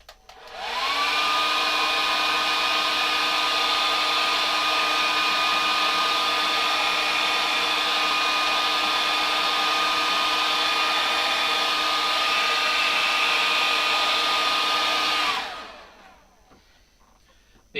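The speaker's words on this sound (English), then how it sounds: "So we're going to get the hairdryer out." Hair dryer blowing to dry paint on O scale model rocks, a loud steady whirring blast that starts abruptly, holds an even tone for about fourteen seconds, then winds down and stops.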